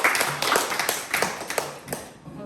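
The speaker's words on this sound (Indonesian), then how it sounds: "Tepuk tangan dulu untuk kita semua." A small group in a classroom claps in loose, uneven bursts of sharp hand claps that fade toward the end, with a faint voice in the background.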